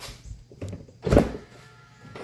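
A Tesla car door unlatches with a solid thunk in the middle, surrounded by faint mechanical clicks and a low hum.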